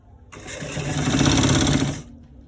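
An electric sewing machine runs in one steady, fast burst of about two seconds, stitching a stretchy fabric collar, its close whirring hum starting abruptly and stopping cleanly.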